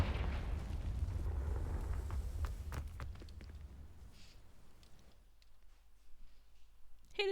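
A Confringo fire spell in the video game Hogwarts Legacy ignites dry vines, setting off a roaring, crackling burst with several sharp pops that fades to a quiet rumble before a short final crackle.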